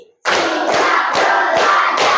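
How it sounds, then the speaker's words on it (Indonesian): A classroom of Indonesian schoolchildren claps in unison, five loud, sharp group claps in a steady rhythm after a teacher's count, close and crowded with no talking over them. "Tepuk 5 kali."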